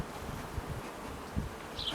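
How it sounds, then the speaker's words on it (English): A soft, steady hum of many honey bees buzzing at an urban hive, faint and continuous, with an occasional insect passing closer. "So what we'll do is shake most of the bees off"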